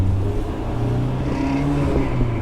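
A BMW E30 M3 Evo engine drones steadily from inside the car, its low, even tone holding with a slight pitch rise under light acceleration on a neighborhood street, with no voices.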